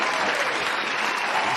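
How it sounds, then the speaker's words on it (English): A studio audience applauds a guest on a show, with dense, steady clapping that is loud and close throughout. "Let's give him a round of applause."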